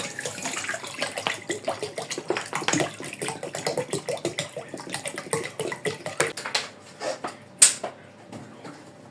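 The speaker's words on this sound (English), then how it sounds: "you add in bottled water to mix that up." Bottled water poured into freshly squeezed lemon juice in a kitchen, a steady splashing, gurgling stream with rapid irregular bursts, close and fairly quiet throughout.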